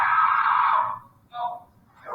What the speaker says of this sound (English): restrained face down, a helmet on his head, screaming for help